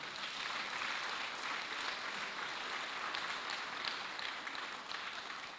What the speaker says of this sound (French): Je pense que nous, les Congolais qui sommes là, nous pouvons vous applaudir.